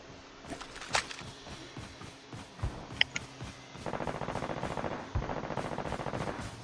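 Rapid bursts of automatic gunfire in the battle royale mode of Call of Duty Mobile crackle close by, a few sharp single shots first, then a sustained stuttering volley.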